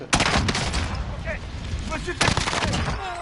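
Gunfire in the video game Warzone, with loud bursts of shots near the start and again later over a busy, noisy battle bed. A few short tonal game sounds are mixed in.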